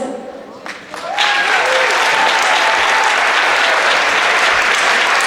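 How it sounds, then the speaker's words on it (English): Applause from the audience at a middle school winter band concert swells from a quieter start into loud, sustained clapping that fills the hall, with a few faint whistles or cheers rising above it. "One more huge round of applause."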